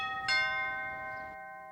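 A doorbell gives a single bright ring with a sustained tonal chime that hangs and slowly fades, heard alone with no speech.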